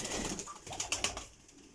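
Pigeons in a high-flying pigeon breeding loft coo repeatedly at close range, soft throaty calls overlapping with faint rustling and brief wing flutters.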